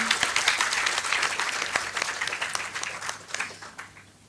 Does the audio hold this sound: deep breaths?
no